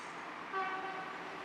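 Y-Class diesel locomotive 161, built by Clyde Engineering in 1968, heads toward a V/Line maintenance depot yard in Melbourne; a faint, brief horn toot rises over low distant rumble.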